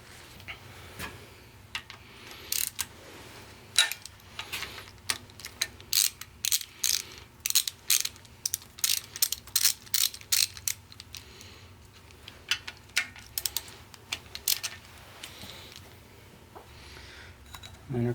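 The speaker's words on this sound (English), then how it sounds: "Now I can probably get my socket in there to get both of these guys and just unbolt it." A socket wrench ratchets bolts loose during a Ford 172 engine teardown, with bursts of sharp, rapid clicking in uneven runs against a quiet workshop background and no talk.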